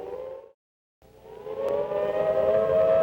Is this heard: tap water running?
no